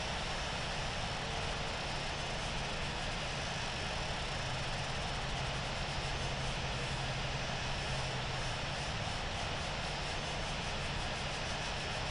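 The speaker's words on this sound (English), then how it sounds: "Lufthansa 287 Heavy is taking off runway 9 right, remaining in the pattern" A heavy airliner takes off from runway 9 right at London Heathrow in the Infinite Flight simulator, a steady, loud jet engine roar running unbroken and close throughout, with no talk over it.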